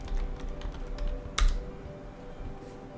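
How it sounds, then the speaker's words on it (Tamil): Typing on a computer keyboard during a Google search demo: soft, quick key clicks at low level, with one sharper, louder tap partway through, and no voices. "ஸோ என்னோடய மெயின் டாபிக் நான் டைப் பண்ணியிருக்கேன்"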